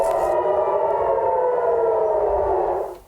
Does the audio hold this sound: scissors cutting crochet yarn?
no